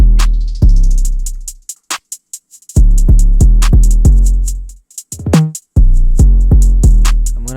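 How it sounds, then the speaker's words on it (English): 808 bass from a trap type beat: loud, booming sub-bass notes with sharp attacks and long decaying tails, sliding in pitch in places, played in a rhythmic pattern with short gaps. "The 808 sounds like this."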